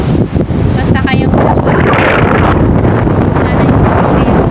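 Wind blowing in a park, a loud continuous low rumble of gusts buffeting the microphone, with faint chatter underneath.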